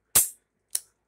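Dry firing an H&R Model 923 .22 revolver: two sharp metallic snaps of the hammer falling on an empty chamber, the first louder, the second lighter, about half a second apart, close and alone in silence.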